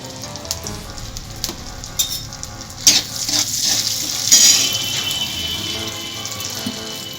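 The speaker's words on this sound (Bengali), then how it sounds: "এই তেলের মধ্যে আমি দিয়ে দিচ্ছি আলুটা" Potatoes sizzle as they fry in hot oil seasoned with salt and turmeric, a steady close crackle with sharper spits and stirring bursts around the middle, and no voices.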